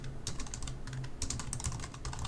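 Fast, close clicking of computer keyboard keys comes in quick irregular bursts over a low steady hum.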